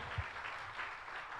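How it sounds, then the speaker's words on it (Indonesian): Congregation clapping together during an Indonesian church worship service, a steady, dense wash of applause that carries on evenly throughout with no pauses. "Ayo beri tepuk tangan yang meriah buat Tuhan"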